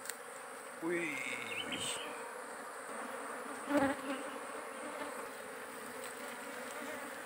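Wild giant honeybees (Apis dorsata) at a small nest in woodland make a steady close buzzing drone that runs throughout, with a few louder passes and a faint voice at times.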